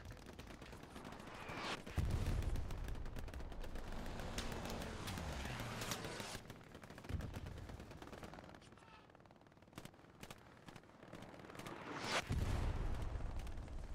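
Dense, sustained machine-gun fire in the World War II shooter Hell Let Loose, with rapid overlapping bursts and distant volleys rolling on for several seconds and a brief quieter lull.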